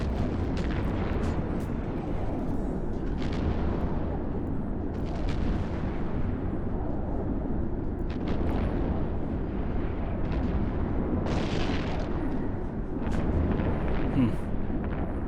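Missiles fire and explode during a battleship fight in the space game EVE Online, a continuous loud rumble of launches and blasts with repeated bursts throughout, under occasional speech.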